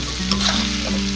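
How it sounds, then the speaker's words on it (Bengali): Amra (hog plum) being stirred and fried in spiced oil while cooking hilsa fish bhuna: a close, continuous sizzle with a few soft stirring scrapes, no voices. "এখন আমি এই আমড়াগুলো দিয়ে দিব দিয়ে বেশি নাড়াচাড়া করব না মোটামুটি একটু কষাব"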